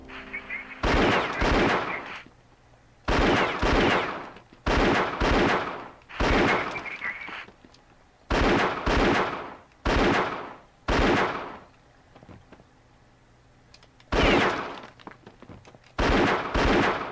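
Gunfire in the N64 game Indiana Jones and the Infernal Machine rings out as about ten loud, separate bursts of shots, each roughly a second long, split by short quiet gaps.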